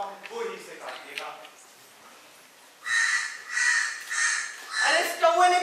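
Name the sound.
crow cawing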